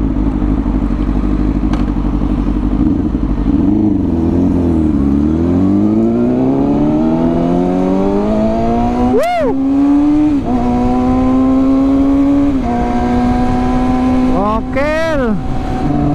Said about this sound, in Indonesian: Pagi-pagi lagi manasin motor ya.